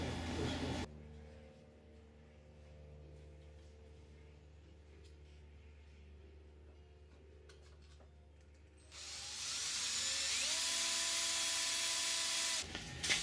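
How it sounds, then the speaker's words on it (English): Power drill whirring as it bores pilot holes in an aluminium Sonex aircraft tail kit, a loud steady high-pitched run of a few seconds near the end, after a stretch of quiet workshop background. "So I will drill with my pilot size holes and cleco, do one side and then the other"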